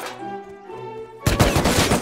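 A Python revolver fires in the video game Rust, a loud sharp burst of gunfire that suddenly cuts in over a quieter tonal game background and holds dense and close until the end.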